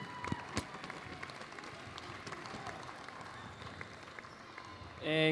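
An indoor crowd applauds the team at a national tertiary netball championship, dense steady clapping throughout, moderately distant, ending as a voice begins to speak.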